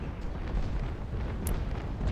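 A sailing ship's cannon broadside in the naval combat game Naval Action: a deep, rumbling roar of fire rolls on continuously, heavy and loud, with no speech over it.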